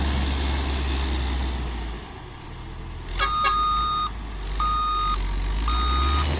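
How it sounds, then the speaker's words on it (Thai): A motor grader works and mixes soil on an earthwork job. Its low diesel rumble runs steadily underneath while loud reversing beeps sound in short bursts partway through. "อันนี้กำลังทำการปาดสไลด์ขึ้นด้านบนนะครับ"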